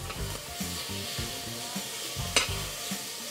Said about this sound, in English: we're going to allow that to cook down and render so we get the fat from the bacon